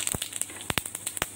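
Cumin seeds crackle in hot oil over a low flame, giving a soft, close run of quick pops and sizzling snaps.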